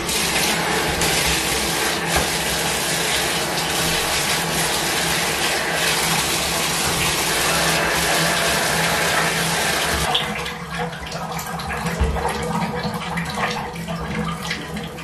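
Water runs steadily from a tap while hair is washed with shampoo, a loud continuous splashing rush that drops to a softer, more uneven trickle partway through.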